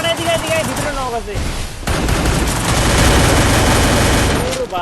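A grenade blast and gunfire in the Free Fire battle-royale shooter during ranked play, a sustained loud burst of explosive noise and shots following game sounds, with voices talking over it.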